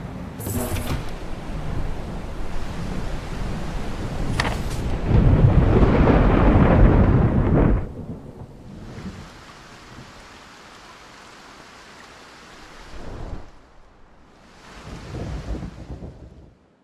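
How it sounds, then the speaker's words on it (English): A storm at sea in the Bannerlord War Sails video game, with a heavy rolling thunder peal building to a loud roar, then quieter rain and wind and two later rumbling swells. "Steer clear of these storms if you can. The winds and waves can damage our vessels."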